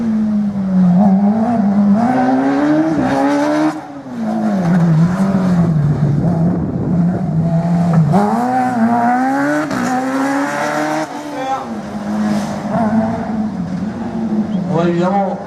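A race car on a slalom course, its engine revving up and down in repeated rising and falling sweeps as it accelerates between gates, heard under continuous French commentary from a public-address announcer.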